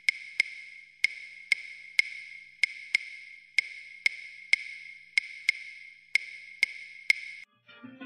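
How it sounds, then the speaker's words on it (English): Salsa clave rhythm played as sharp, dry wooden clicks in a repeating asymmetric pattern of quick and spaced strokes, heard alone and fairly close for several cycles before stopping. "This is the clave rhythm that you probably heard so much about,"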